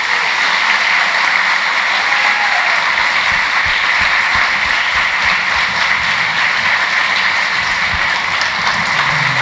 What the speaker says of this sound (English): Can we give all of the people that I just mentioned another round of applause?